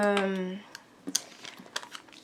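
A brief voice gives way to a few small crisp snips and clicks of scissors cutting through paper or plastic, close and quiet.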